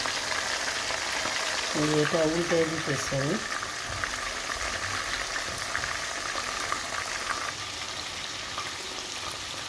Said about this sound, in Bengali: আর চিকেনটা ওভারনাইট টক দই দিয়ে করলে এটা খুবই সফট হয় এবং তাড়াতাড়ি ভাজা হয়ে যাবে একসঙ্গে।